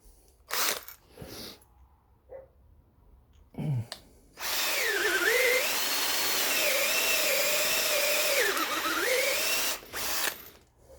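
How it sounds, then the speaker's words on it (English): A cordless power drill whirs steadily for several seconds, its pitch dipping twice as the bit bites into a firewood log, after a few knocks and handling sounds. "Okay, I'm going to drill"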